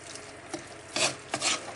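Roasted curry powder cooking with tripe in a pan for a Sri Lankan tripe curry, stirred in a few short scraping strokes that rise in two louder bursts near the end.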